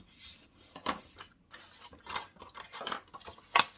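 Paper being cut by hand for a scrapbook album, with scattered soft rasping snips and rubs of blade on paper, one sharper louder cut near the end, close and quiet with no voices.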